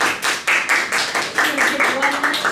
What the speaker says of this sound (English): So we're going to give yourselves a round of applause.